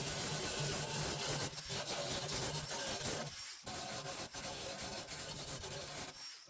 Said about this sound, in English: we can finish the holes off with this mini belt sander